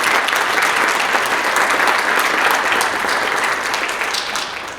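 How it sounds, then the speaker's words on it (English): Steady audience applause fills a finance conference hall as a panel speaker on AI in finance is welcomed, dense and even throughout before tapering slightly at the end. "So please give a round of applause for Didem."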